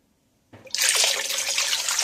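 Sixteen ounces of water pours into a container for birria broth, starting abruptly after a brief pause and continuing as a steady, close, bright splashing stream with no voices.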